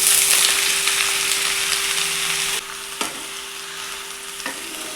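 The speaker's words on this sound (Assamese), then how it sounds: "তেল গৰম হৈ গ'ল, এতিয়া এইখিনি বহাই দিওঁ" Close, intense sizzling of vegetables frying in hot oil, stirred with a few clanks; the sizzle drops somewhat midway and continues without speech.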